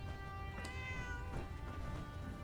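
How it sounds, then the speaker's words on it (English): A cat in Fallout 4 meows a few times, close and clear, over a steady droning game ambience, with no talking. "There's a good kitty."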